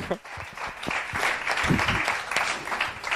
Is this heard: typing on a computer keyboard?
no